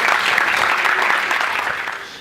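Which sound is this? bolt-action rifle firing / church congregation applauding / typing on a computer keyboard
church congregation applauding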